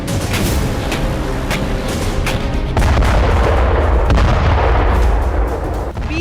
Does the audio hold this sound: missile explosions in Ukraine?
yes